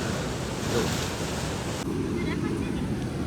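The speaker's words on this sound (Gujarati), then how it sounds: "ઓલા દરિયાના મોજા ગાંસતા હોય ભભરાટી અને એમાંય પાછો પવન હોય" Sea waves surge and crash near the shore by the Ratneshwar Mahadev temple as the rains begin, blending with a continuous rush of wind buffeting the microphone.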